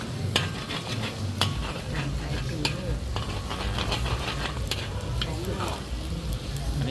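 Pad thai noodles and egg stir-fried in a wok at a market stall in Khon Kaen, Thailand, with sizzling and repeated metallic scrapes and clanks of a spatula, under background chatter.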